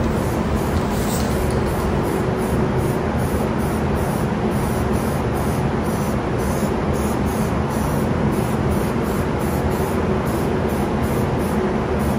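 Continuous hissing spray paint applied heavily to car wiper arm parts, loud and close, steady throughout without pauses or talking.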